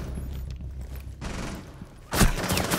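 Gunfire in Rainbow Six Siege, a loud close burst of shots near the end after a stretch of quieter clattering game noise and muffled movement.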